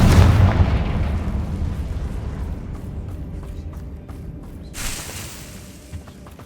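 A booming blast from the Confringo fire spell in Hogwarts Legacy, a loud explosion that fades into a long rumbling decay, followed by a smaller crackling burst.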